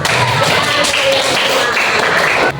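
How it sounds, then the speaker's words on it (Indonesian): Students in a coding and artificial intelligence training class clap their hands together, a loud, close burst of sharp overlapping claps and taps lasting a couple of seconds. "Tepuk tangan untuk kalian semua"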